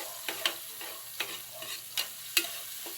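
Chopped onion frying in a pan with a soft steady sizzle, broken by several sharp scraping clacks as a utensil stirs it through the oil.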